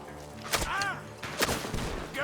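Two sharp gunshots ring out from a barn in Red Dead Redemption 2, each a short, loud crack with a ringing tail, fired about a second apart.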